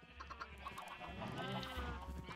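Blocky Minecraft sheep bleat repeatedly in the video game, several overlapping baa calls at low volume with no talking.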